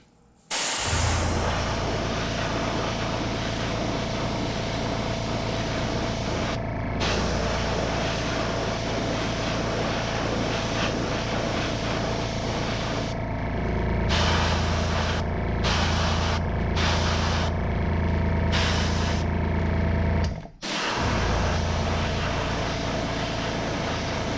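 Airbrush spraying red paint onto crankbait fishing lures, a steady close hiss running nearly nonstop with a few brief breaks and a short pause near the end.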